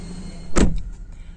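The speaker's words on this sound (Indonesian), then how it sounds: "suara mesinnya ketika di starter" Engine of a VW Tiguan Allspace facelift starting, a short loud burst of cranking that fires and settles into a low idle within about a second, close by with no talk.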